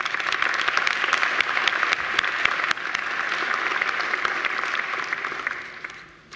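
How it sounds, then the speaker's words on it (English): Crowd applause at a Macquarie University graduation ceremony: loud, sustained clapping from a large audience that holds steady for several seconds before fading away at the end. "you'll agree with me that Adrian deserves another round of applause"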